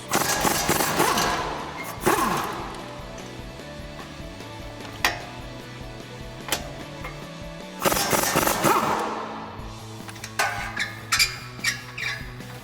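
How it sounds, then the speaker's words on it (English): A 1/2-inch impact gun with a 21mm socket breaks loose two strut nuts on a 2011-2014 Mustang spindle: two loud, close rattling bursts about six seconds apart, followed by scattered metallic clanks and knocks. "I'm going to take my 21mm on my 1/2-inch impact gun and break these 2 nuts loose"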